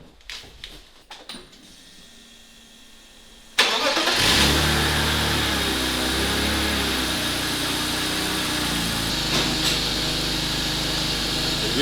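A few clicks and a cranking starter, then a cold car engine catches and settles into a loud, steady idle up close.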